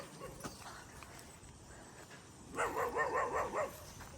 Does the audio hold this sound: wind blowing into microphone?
no